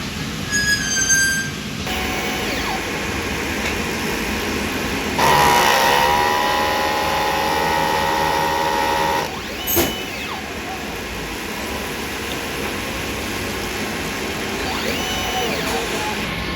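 A DTF printer runs a head clean cycle, its motor whirring and whining steadily with a louder pump-like stretch partway through, a sharp click, and then quieter mechanical hum and carriage movement.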